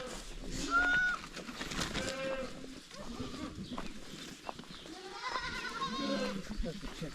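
Goats bleat several times at a fence demolition, with drawn-out calls rising over steady outdoor noise while people talk nearby.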